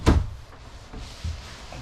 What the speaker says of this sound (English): And then you do have a pocket sliding door there.